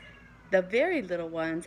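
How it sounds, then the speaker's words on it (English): Sam, a pet cat, lets out a rising and falling meow followed by a shorter wavering cry, close by and fairly loud, over a voice speaking quietly. "I'm sure you can hear my cat Sam crying in the background"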